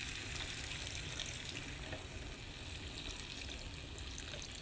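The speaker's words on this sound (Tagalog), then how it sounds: "lagyan natin ng sabaw yan mga kasarap" Broth pours into sautéed upo (bottle gourd) with sardines, a steady, continuous splashing trickle with no pauses, close and moderately loud.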